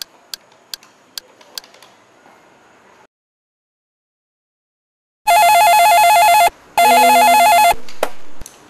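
A telephone rings loudly in two long electronic bursts after faint ticking and a stretch of silence, with a shorter tone trailing at the end.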